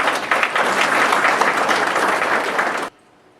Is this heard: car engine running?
no